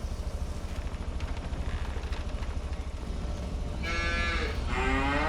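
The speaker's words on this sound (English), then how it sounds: "let's go and check on our cows" Cattle on a farm low and moo near the end, a couple of drawn-out calls over a continuous rumbling background.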